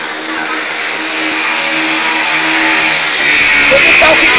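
Car engine revving hard while stuck in a hole on a street in Mongaguá, a steady loud drone that swells toward the end.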